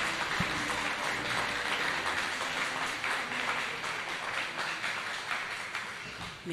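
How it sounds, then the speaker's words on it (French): Sustained applause from an audience at a graduation ceremony of an evangelical theology seminary in Artibonite, a dense, steady wash of clapping throughout with no talk over it. "sous vos applaudissements."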